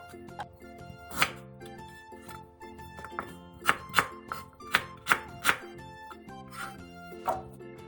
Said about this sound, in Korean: 부추 2-3줌 정도를 3cm 정도 길이로 잘라주세요